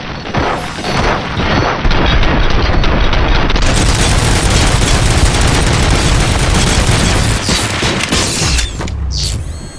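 Heavy gunfire roars in RoboCop: Rogue City, a loud, dense barrage of rapid shots and mechanical clatter that runs almost unbroken for most of the stretch before cutting off near the end.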